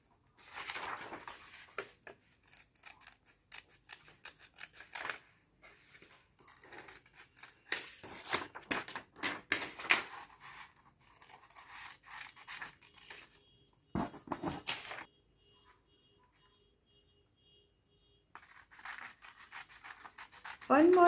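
Scissors snip and rasp through a leaf keychain outline in quick bursts of close cutting strokes, pausing briefly and resuming, with small crinkly handling sounds between cuts and no talk.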